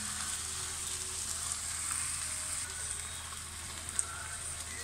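Chicken seasoned with salt and pepper fries in a pan, giving a soft, steady sizzle and fine crackling spatter close by, with one sharper pop near the end and no one speaking.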